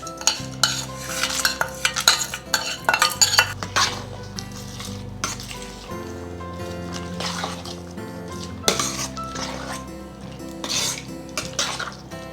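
A spoon stirs fried tempering into temple-style curd rice for daddojanam, with soft repeated scraping and clinking against the bowl, steady and close, alongside a faint tonal background.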